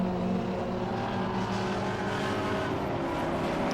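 Alfa Romeo pre-1966 classic touring car racing at Silverstone, a loud, continuous engine roar with rising and falling revs as it works through a corner, close by and alone.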